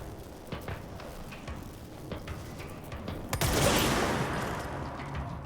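Rapid automatic gunfire from the video game Control, bursts of sharp cracks building into a loud, sustained fusillade partway through, alone with no speech.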